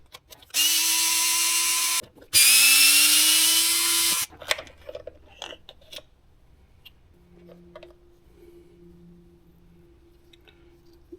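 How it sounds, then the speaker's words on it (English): Cordless power driver backing out screws from the gear cover of an Arrma Gorgon RC car, two short loud whirring bursts followed by faint clicks and small handling noises. "the couple screws that take this cover off"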